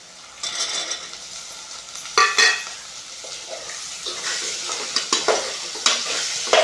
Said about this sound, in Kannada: ವಟಾಣಿನೂ ಸ್ವಲ್ಪ ಫ್ರೈ ಮಾಡಬೇಕು ಎಣ್ಣೆದೊಳಗೆ